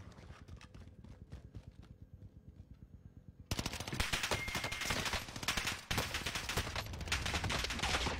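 Automatic gunfire in the battle royale game Apex Legends, starting as a sparse scattering of shots and then swelling into a dense, loud, sustained burst of rapid fire with a brief dip near the end.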